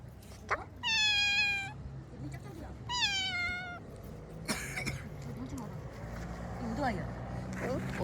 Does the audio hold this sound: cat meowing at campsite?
yes